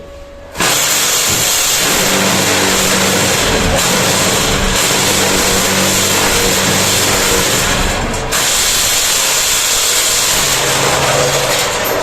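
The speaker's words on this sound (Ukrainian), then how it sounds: "Вібруємо нижнім вібратором, е, а точніше верхнім, і допомагаємо йому нижнім" A concrete block-making machine runs its upper and lower vibrators, a loud, dense, continuous mechanical roar and buzz that starts abruptly and holds steady, up close with no voices.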